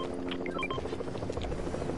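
A helicopter's steady rotor drone in a PS4 video game fills the scene, loud and continuous, with small electronic blips and chirps scattered over it.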